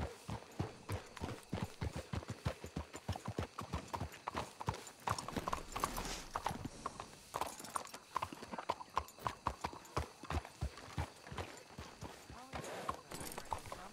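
Rhythmic clip-clop of horse hooves trotting on hard ground in Red Dead Redemption 2, close and regular, with people talking over it.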